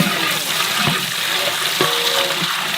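Tamarind water being poured into a cooking pot alongside garlic, curry leaves and spices, a steady liquid splash with a soft sizzle and stirring clatter underneath, close and moderately loud.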